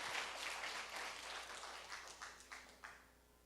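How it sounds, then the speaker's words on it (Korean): A congregation applauds during a church service, a dense wash of clapping that thins into a few scattered claps near the end, fairly distant and soft. "박수 한번 쳐줘봐."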